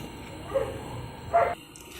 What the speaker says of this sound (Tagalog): Nag-pause tayo sandali kasi tumatahol yung aso ng uh, kapitbahay.